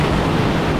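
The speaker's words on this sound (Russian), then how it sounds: "Ой, волна." A brief, loud rush of surf as an ocean wave breaks nearby on a Phuket beach, with wind buffeting the microphone.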